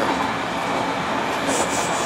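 A Puyuma Express train in Taiwan, heading to Taitung, running on rails and heard from inside a carriage: a loud, continuous rumble with rhythmic wheel clatter and a brief high squeal near the end. No one speaks.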